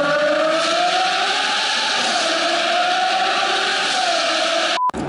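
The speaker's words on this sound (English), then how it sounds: "It opens the valve and the exhaust to make it a bit louder and gives you the pops and crackles." A 340hp turbocharged Morgan Plus Six with its exhaust valve open runs at steady high revs, a loud continuous engine and exhaust drone with a slowly wavering pitch that cuts off abruptly near the end.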